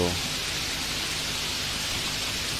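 Rain in a Bengali ghost cartoon: a steady, dense hiss of falling rain filling the whole stretch at an even, loud level, with no gaps and no distinct drops or thunder standing out.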